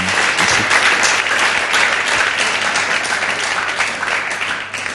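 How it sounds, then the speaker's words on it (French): Loud, dense applause from a comedy show audience, many hands clapping steadily and evenly throughout with no break. "Est-ce qu'on peut applaudir pour moi, s'il vous plaît?"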